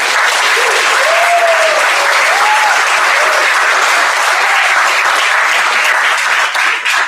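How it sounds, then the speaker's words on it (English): Sustained applause from an audience at a state poetry recitation final honoring student performers, a dense continuous clapping wash that stays steady and loud throughout with a few faint voices or whistles near the start. "Let's give them one more round of applause"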